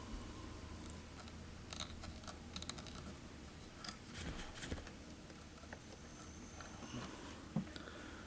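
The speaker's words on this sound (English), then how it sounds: "Going to take my poke and snip and trim off that little piece of hackle" Small scissors snip and trim hackle feather on a fly-tying hook, a few faint, sharp clicks scattered over a low steady background hum with no talking.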